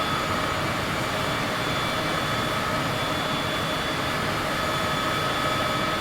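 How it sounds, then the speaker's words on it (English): Steady, loud jet engine roar from an airliner on approach in Microsoft Flight Simulator, a broad continuous whoosh with a low rumble and faint high tones, unbroken for the whole stretch and heard alone without talk. "I'm going to kill these engines a little bit more here so we can make this approach"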